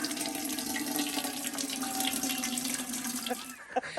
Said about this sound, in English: We're going to put water in this bucket right here.